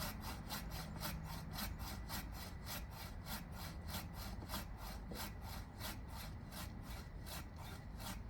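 A hand saw works through a tree branch in steady back-and-forth strokes, a rhythmic rasping repeated evenly throughout, fairly faint and alone.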